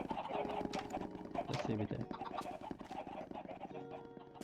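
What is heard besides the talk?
chickens clucking in Minecraft video game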